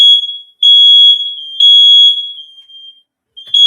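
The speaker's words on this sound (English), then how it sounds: "I thought my fire alarm was going on for a minute" A smoke alarm sounds a loud, piercing high-pitched tone that comes in about three long beeps with brief gaps, with no one talking over it.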